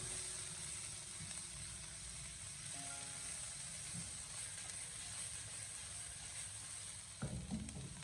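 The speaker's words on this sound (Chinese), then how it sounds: "在这里，我们需要把辣椒中的水分给它煸炒出来" Chopped chili peppers with a pinch of salt are stir-fried in a wok over medium heat, giving a continuous soft sizzle with occasional spatula scrapes and a louder clatter near the end.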